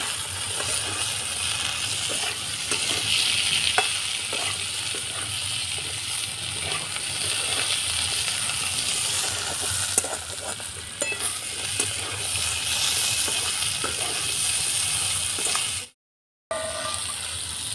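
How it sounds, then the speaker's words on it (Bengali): Jackfruit seeds and potatoes sizzle steadily in a hot pan with oil and chilli powder, with a spoon scraping and stirring through them in an even, close-up crackle. "কাঁঠালের বিচিটা আলুটা ভাজা ভাজা হয়ে গেছে"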